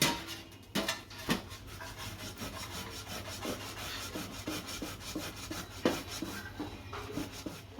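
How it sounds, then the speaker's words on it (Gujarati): Boiled potatoes are grated by hand for kachori in a home kitchen, giving a close, uneven series of rasping scrapes with occasional sharper strokes. No one speaks. "આપણે બટેકાને છીણી દેવું"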